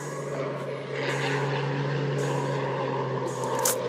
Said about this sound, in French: il y a encore des avions, c'est un truc de fou